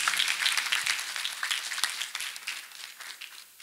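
A church congregation claps for Master Jesus during a testimony service, a dense burst of many hands that stays loud at first and then thins and fades toward the end.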